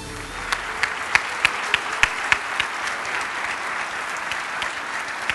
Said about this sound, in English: Give them and all our internal recipients a big round of applause